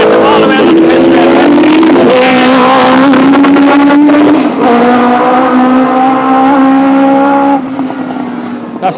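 Race cars accelerate along the pit straight at Mondello race track, their engines loud and close, rising in pitch through gear changes with a brief drop between, sustained for several seconds.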